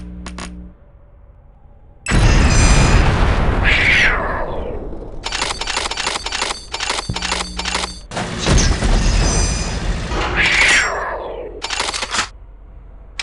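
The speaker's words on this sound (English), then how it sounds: "you can bounce the grenades around some before they explode" Incendiary grenades from the game Unreal 2 go off in a series of loud booming explosions, a heavy blast followed by several sharp bursts in quick succession, then another big blast and a final burst, each fading with crackling fire.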